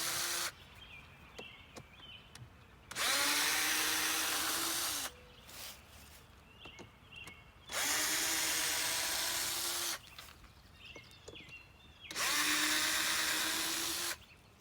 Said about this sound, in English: I'm going to take the screws out of the top of the nuke box.